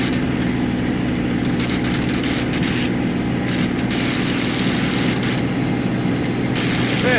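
An aircraft engine accelerating before a loop, heard from inside the cockpit as a loud, steady propeller drone with a constant low rumble and hum throughout, no talking.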